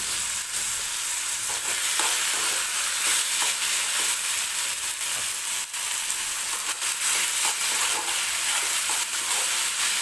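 Tomatoes fry in a pan until soft for an onion-tomato chutney, giving a steady dense sizzle with scattered stirring scrapes throughout, close and fairly loud, with no talking.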